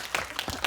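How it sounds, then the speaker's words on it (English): A short burst of clapping from a small group, a few uneven claps in under a second, close and moderate. "A round of applause."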